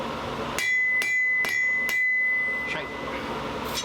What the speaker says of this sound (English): That is some ugly hammer blows for sure.